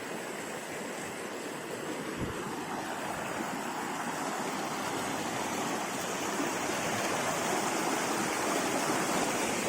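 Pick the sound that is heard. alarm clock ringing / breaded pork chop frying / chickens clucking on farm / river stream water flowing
river stream water flowing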